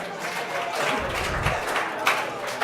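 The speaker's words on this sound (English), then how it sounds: "If you can hear me, clap 7 times." An audience in an education gathering claps on cue, giving a dense wash of applause with a few louder accents and crowd noise beneath, fairly close and steady for a couple of seconds.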